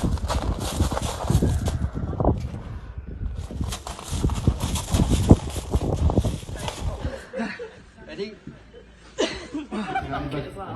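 A difficult horse moves about, with hooves clopping and thudding close by and a snort, while people chuckle and talk over it.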